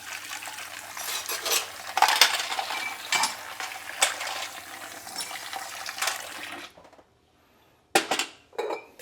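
Soapy dishes are washed in a kitchen sink, with ceramic and cutlery clinking and knocking amid splashing water and a running tap, then a brief pause before more clatter.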